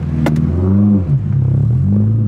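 Close, loud revving of a Honda S2000 sports car engine under throttle, a rising roar that settles into a steady, rumbling idle with harmonic drone.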